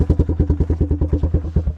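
Motorcycle engine with a large hole in its exhaust, cold-blooded and running rough, chugging at a close steady idle with a fast, even pulsing beat and clattery rasp.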